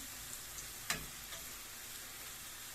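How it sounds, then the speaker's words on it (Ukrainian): Quiet, steady sizzling of onion frying in oil, with a few faint ticks and clinks, close but soft. "Хай цибулька жарить."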